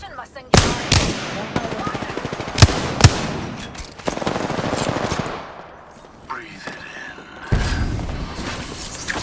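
Rapid automatic gunfire in the video game Apex Legends, with dense bursts and sharp single shots in quick succession, loud and close, while players talk excitedly over it.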